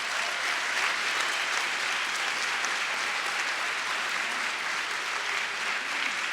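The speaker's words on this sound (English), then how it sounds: "let's give our graduates one more round of applause" Sustained audience applause at a graduation ceremony at CPUT, a dense, steady wash of clapping from a large crowd throughout, with no voices over it.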